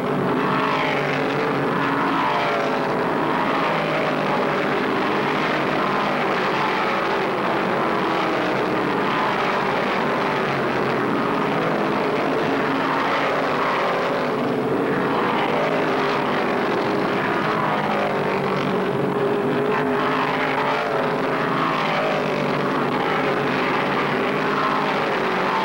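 Stock cars racing in the 1972 Virginia 500 at Martinsville, a dense, continuous roar of engines, loud and steady throughout with no voices.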